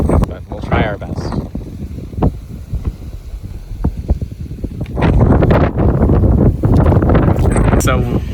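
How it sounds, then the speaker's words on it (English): Strong coastal wind near an airport in Hawaii buffets the microphone, producing loud, continuous low rumbling gusts that intensify partway through, with a voice faintly heard under the noise. "So it was too windy"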